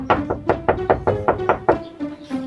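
A rapid, steady run of sharp knocks on a door, about a dozen in quick succession with a faint steady tone underneath, in a comedy sketch.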